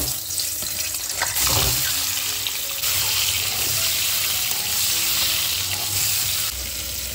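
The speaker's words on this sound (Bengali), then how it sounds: "এখন ডিম রান্না করে নেব, আর ডিমের জন্য তেল দিয়ে দিচ্ছি।" Eggs sizzle and fry in hot oil for a home-cooked Bengali lunch, a loud, steady crackling hiss close by with brief stirring or clinking noises.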